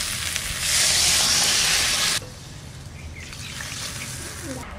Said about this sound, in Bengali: এবার টমেটো কটা দিচ্ছি, এবার জল দিয়ে দিচ্ছি।